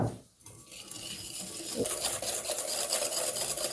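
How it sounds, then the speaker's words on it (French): Eggs being whisked with sugar in a bowl for a custard, a steady rapid scraping and clinking of the whisk against the bowl, close and continuous after a brief quiet start. "Je vais blanchir les œufs"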